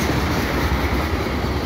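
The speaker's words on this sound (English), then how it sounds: "I got an eastbound freight train" An eastbound CN mixed freight train led by SD70M-2 locomotives rolls past Beaconsfield station in Montreal, a loud, steady, close rumble of wheels and railcars filling the whole moment without talk.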